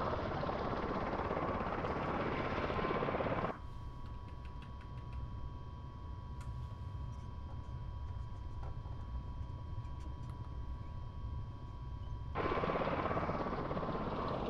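An airplane engine in Microsoft Flight Simulator drones in a steady loud hum with a high whine. The sound drops to a quieter, muffled tone for a long stretch, then returns to full strength.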